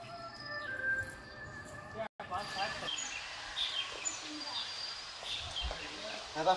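Baby birds in a nest found during cleaning give faint, thin chirps and tweets in short scattered bursts, set against a quiet outdoor background with people talking nearby.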